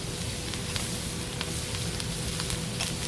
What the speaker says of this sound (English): tilt it, start butter basting it